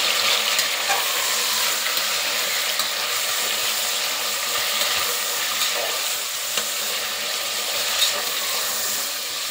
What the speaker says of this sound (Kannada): ಸೊ ಹಂಗಾಗಿ ನೀಟಾಗಿ ತೊಳೆದಿರೋ ಚಿಕನನ್ನು ಹಾಕ್ತಾ ಇದ್ದೀನಿ. ಒಂದು ಸ್ವಲ್ಪ ಸಾಟೆ ಮಾಡೋಣ.